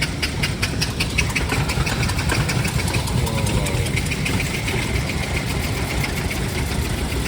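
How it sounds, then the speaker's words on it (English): An old hand-cranked engine runs at a steady idle, a loud, close, continuous chugging drone with rapid regular knocking throughout and no voices. "By trying to start that one up, you've got to crank the handle, get them started. It's nearly starting."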